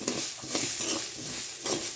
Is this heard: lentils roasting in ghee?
yes